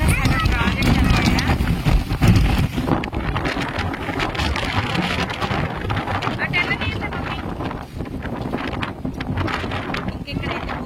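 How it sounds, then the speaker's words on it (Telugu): Strong wind rushes outdoors at the Nagarjuna Sagar project before the rain arrives, buffeting the microphone with a loud, continuous roar from start to finish. "గాలి ఫుల్, వర్షం అయితే ఇంకా లేదు కానీ గాలి అయితే బాగా మీకు వినిపిస్తుందా?"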